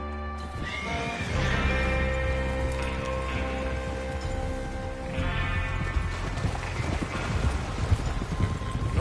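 Horses in a Western-era video game whinny loudly and shake their heads while hooves clip-clop and shuffle underneath, close and busy throughout with repeated neighs.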